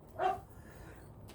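A single short dog bark sounds indoors at moderate distance, a quick sharp yelp followed by quiet room noise.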